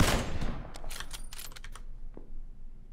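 Video-game gunfire opens with a close, heavy blast, followed by a series of quick, sharp bursts and scattered crackling shots at mid-distance.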